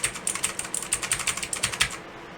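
Rapid clicks from the WASD keys of a Redragon K552 87-key mechanical keyboard, a quick run of about fifteen crisp, close keystrokes in an uneven typing rhythm that stops abruptly near the end, with no talking.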